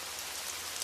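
Steady rain falls in a soft, even hiss, continuous and unbroken with no voices.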